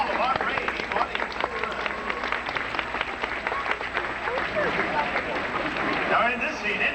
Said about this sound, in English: How about a nice big round of applause for Justine and all of our great audience?